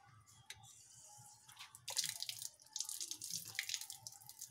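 Tap water runs and splashes into a sink during hand washing, faint and close, with light dripping early and a fuller, steadier splash in the second half.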